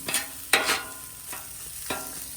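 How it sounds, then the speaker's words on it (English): Eggs cook on a Blackstone griddle, with a low steady sizzle broken by a few sharp spatula scrapes and taps, close by and fairly quiet, with no voices. "Take a little bit longer just to cook some of the egg out."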